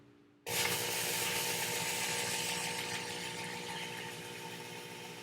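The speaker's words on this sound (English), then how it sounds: "And then slowly start to squeeze the trigger for the motor." A Work Sharp belt sharpener motor whirs up abruptly and runs loud and steady while sharpening garden shears, a continuous close abrasive drone with no voices.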